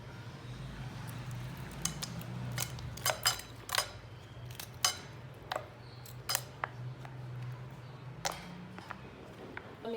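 Ice cubes dropped into a glass of fresh watermelon juice, a series of sharp clinks and knocks scattered irregularly over a low steady hum, fairly close and crisp.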